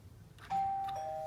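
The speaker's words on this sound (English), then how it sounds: "Let's test the doorbell." A front doorbell at a house with a security door rings once, a clear sustained electronic chime that lingers and fades, close by with no talking over it.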